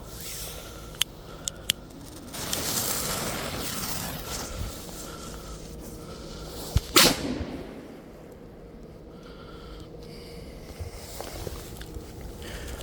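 A Horror 2 firecracker goes off outdoors with a single sharp, loud bang midway, preceded by a few small clicks and followed by fading rustling ambience.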